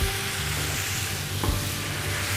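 Food with garlic fries in a pan, giving a quiet, even sizzle throughout with one small click partway through.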